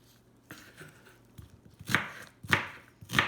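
A sharp knife chops through onion on a cutting board for bhaji pakoras: a few soft cuts, then three loud, crisp chops about half a second apart, close by.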